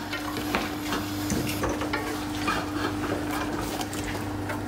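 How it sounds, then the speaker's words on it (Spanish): Chocolate goes into a pot of boiling liquid on a lowered flame and is stirred. Continuous bubbling and scraping of a utensil against the pot carry through with no voices. "Voy a bajar un poco el fuego. Ya está hirviendo. Y ahora le vamos a echar el chocolate primero."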